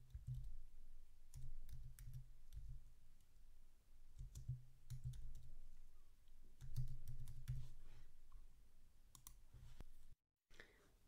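Close, quiet typing on a computer keyboard, entering a map title, with irregular clusters of key clicks and brief gaps, ending in a short silence.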